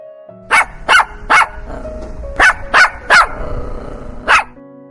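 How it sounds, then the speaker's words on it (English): A dog barks seven times, close and loud, in two quick bursts of three followed by one final bark. "barked at the dog in the water."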